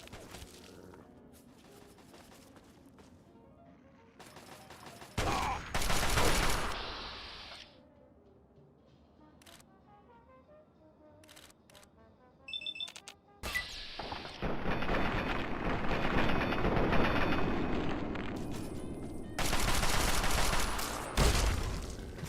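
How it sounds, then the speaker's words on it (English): Bursts of heavy video game gunfire erupt in dense volleys of rapid shots and crashing impacts, loud and alone, with quieter lulls between the fusillades. "You're getting shot up."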